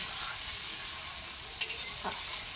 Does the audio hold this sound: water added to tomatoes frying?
yes